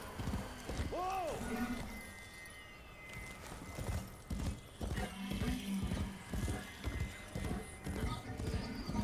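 Kaithe mount in the Warframe video game galloping with steady, loud clip-clop hoofbeats and a brief neigh early on, the hooves picking up into a fast rhythmic run toward the end.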